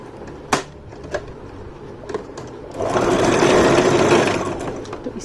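A Brother GS1700 sewing machine stitches fabric for a poncha design: a few soft taps and clicks, then a steady whirring run of rapid stitching about two seconds long, close by, with no talk.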